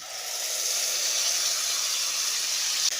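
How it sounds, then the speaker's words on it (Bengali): Spice paste frying in hot oil in a pan for a Bengali bata fish curry with potato and eggplant, giving a steady, continuous broadband sizzle and hiss that stays loud and even throughout, with no talking. "মশলাটা দিয়ে খানিক্ষণ একটু ভেজে নিচ্ছি"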